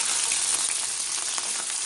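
Chicken pieces for coq au vin fry in a hot pan, giving a steady, bright, crackling sizzle that holds unbroken throughout, close and alone with no talk.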